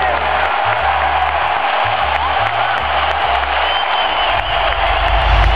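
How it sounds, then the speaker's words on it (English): Sustained crowd applause and cheering for Jason Richardson at Oracle Arena, a dense, loud roar of clapping that holds steady, with a low rhythmic tone underneath. "Listen to this applause."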